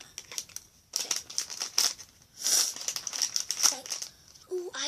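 A My Little Pony blind bag foil packet crinkles and rustles as it is torn open close by, in uneven bursts, with brief bits of a voice near the end.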